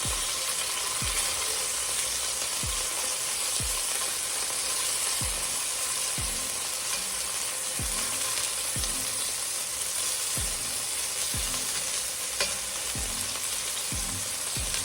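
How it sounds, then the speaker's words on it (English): Lamb pieces sizzle steadily in a hot frying pan, a constant loud crackle with soft periodic thumps underneath. "Listen to that sizzle."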